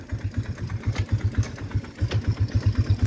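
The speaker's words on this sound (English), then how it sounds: "So the bike's pretty much warmed up." A warmed-up farm motorbike with a centrifugal clutch idles close by, its engine putting out a steady, fast, even low thump that pulses rhythmically throughout, loud and alone with no talking.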